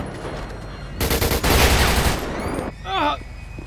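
Gunfire in the GTA 5 game, a dense burst of rapid shots over about a second of loud, crackling fusillade, then quieter ambience with a brief warbling sound near the end.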